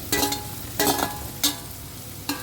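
Tomato, turmeric and grated coconut are stirred in a frying pan: four separate scraping, sizzling strokes come close and fairly loud over a soft background sizzle.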